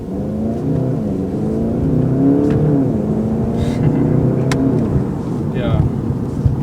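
A 2019 Volkswagen Golf GTI accelerates from inside the cabin, its engine note climbing through rising gear pulls with a shift dip, steady and moderately loud, under a faint voice and a few clicks.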